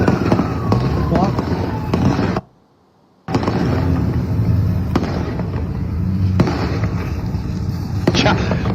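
Sharp gunshot-like bangs crack out in a tense street standoff, several sharp reports spread across the stretch over constant background noise and voices, with a brief dropout near the start.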